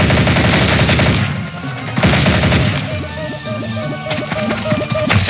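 Assault rifle fire in the audio game Blood Shed: loud rapid bursts of automatic gunfire, a long volley, a brief pause, then further rattling shots with sharp impacts.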